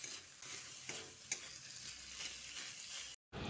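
Chhana (fresh cheese curd) is stirred into masala frying in oil in a pan, a soft close sizzle with repeated spoon scrapes, then cutting to a brief silence near the end.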